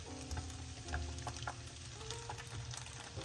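Onions frying in ghee or butter give a soft, steady sizzle with faint crackles and occasional light ticks, quiet and close with no voices.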